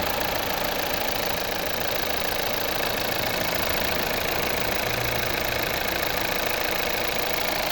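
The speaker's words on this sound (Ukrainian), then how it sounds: "Ось робота двигуна." A 2014 Volvo V60 with a 2.0 D4 diesel and eight-speed automatic idles steadily, giving off a continuous, even low drone with a faint knocking texture and no voices throughout.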